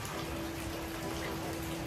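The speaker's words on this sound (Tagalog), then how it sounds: "umuulan pa rin." Rain falling in the early evening, a soft, even hiss of steady rainfall with a faint low hum underneath and no voices.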